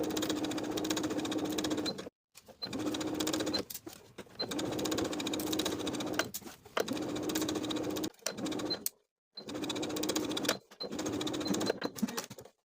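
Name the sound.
sewing machine sewing bias tape onto dress bodice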